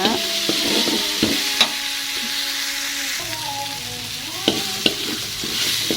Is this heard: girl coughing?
no